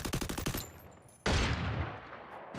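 Rapid automatic gunfire in an esports video game match, a quick run of close bursts followed by a loud sharp blast that tails off, with no talking.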